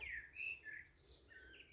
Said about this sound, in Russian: Ой, как птички поют, правда?